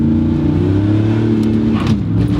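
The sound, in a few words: car engine revving and shifting gears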